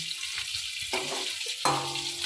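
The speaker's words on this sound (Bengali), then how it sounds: "আর এখানে দেখতে পাচ্ছেন ফুলকপিটা ভাজা হয়ে গেছে" Cauliflower florets, pre-salted, frying in hot oil for a vegetarian cauliflower curry with potato and bori, giving a steady close sizzle with a few stirring scrapes and bursts of louder spitting, no talk.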